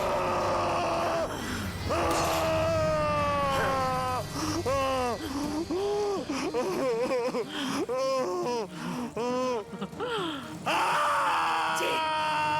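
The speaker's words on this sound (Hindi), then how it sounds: "चीख, और जोर से चीख।" A man screams and wails in pain in a Hindi crime drama, a long run of loud, strained, pitch-bending cries and sobbing groans that rise and break repeatedly, close and alone with no talk.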